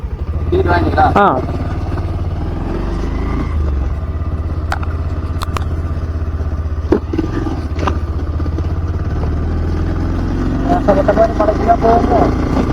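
Motorcycle engine idling and clattering on a day trip road near Attur forest area in Salem, a steady mid-range rumble with occasional knocks while people talk nearby.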